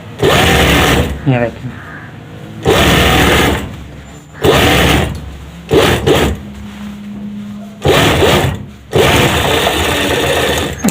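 An industrial sewing machine stitches a gents suit, running in several loud bursts of a few seconds each, with someone talking in the pauses between them.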